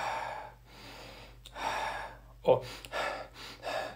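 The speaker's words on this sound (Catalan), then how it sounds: "Independentment de la freqüència en què respiris, de que inhalis i exhalis" A man takes deep rhythmic breaths in and out, several audible inhales and exhales with one sharp gasp partway through, close and fairly quiet, with a little speech mixed in.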